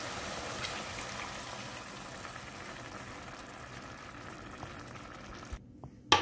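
Water goes into a cooking pot while making cornmeal with leaves, a faint, steady rushing stream that runs evenly for several seconds before ending with a couple of small knocks.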